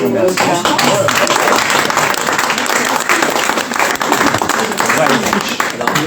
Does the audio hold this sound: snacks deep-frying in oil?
no